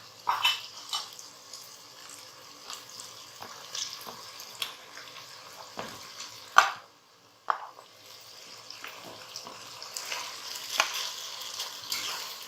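Rice is gently folded into softened vegetables in a pan for Arabian rice, a quiet low sizzle with soft scraping stirs and one sharper clink of a utensil partway through, no voices.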